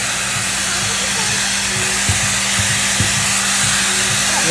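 Loud, steady blower roars continuously at a Build-A-Bear Workshop drying station, a broad hissing rush of air with faint thumps and a voice barely audible underneath.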